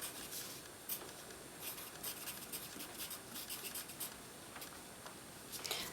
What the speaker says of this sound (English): So the next thing I'm going to do is I'm going to be doing thumbnail sketches.